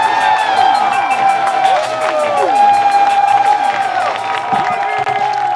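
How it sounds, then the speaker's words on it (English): A live gospel comedy show audience claps and cheers loudly and steadily, with whoops and whistle-like calls rising over the crowd noise throughout. "I want you guys to put your hands together right now and start clapping"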